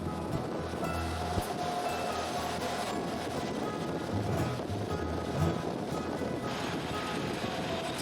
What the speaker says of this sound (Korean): 열차는 알프스에서 흘러내리는 빙하수 계곡을 따라 들어간다.